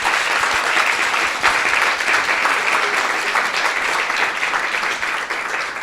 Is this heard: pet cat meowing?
no